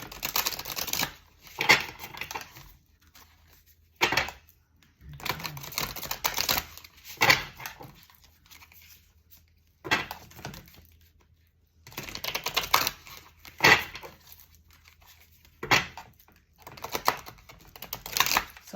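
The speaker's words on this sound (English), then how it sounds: "I'm going to go ahead and shuffle the cards" Tarot cards being shuffled in several separate bursts, each a quick crisp flutter of riffling cards broken by short quiet pauses, close and fairly clear with no talking.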